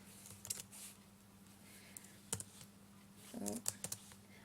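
Computer keyboard typing in a quiet room, with sparse, light key clicks in short bursts, including a quick cluster near the end, over a faint steady background hum.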